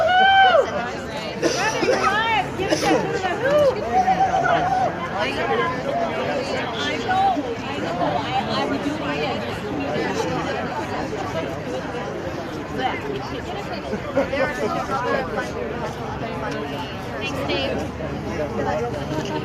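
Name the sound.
crowd chatter at a courthouse protest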